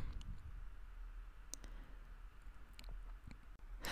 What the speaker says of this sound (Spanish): ahora voy a hacer clic dos veces y se abrirá mi navegador